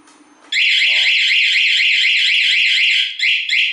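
A Cool Alarm car anti-theft system blares a loud, continuous warbling siren for about three seconds, briefly dips, then resumes. A short voice-like tone is heard just before it starts.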